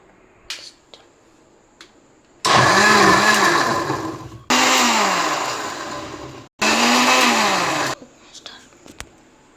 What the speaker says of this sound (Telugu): ఇప్పుడు దీన్ని మిక్సీ కొట్టేద్దాం.